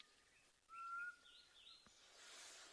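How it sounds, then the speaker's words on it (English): A distant black cuckoo gives a short whistled call, faint against a soft outdoor hiss, followed by quieter rustling. "But you can also hear a black cuckoo."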